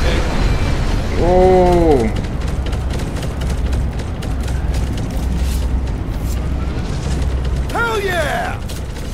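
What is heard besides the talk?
rocket explosions in Guardians of the Galaxy video game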